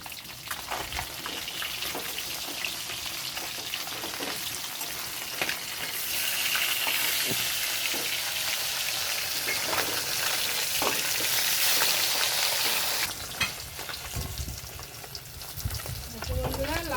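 Pieces of fresh fish frying in oil, a loud steady crackle and sizzle with occasional stirring scrapes, swelling louder midway, while a person talks at times over it.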